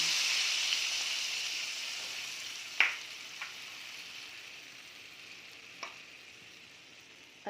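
Coconut milk hitting a hot pan gives a steady, fairly quiet sizzle that slowly fades, with a few sharp clinks of a utensil against the pan.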